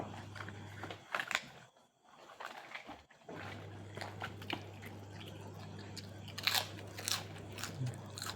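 Close, crisp crunching and biting of fresh iceberg lettuce, eaten as a side to Thai mackerel dip, with repeated bites and chewing in an irregular rhythm over a low steady hum.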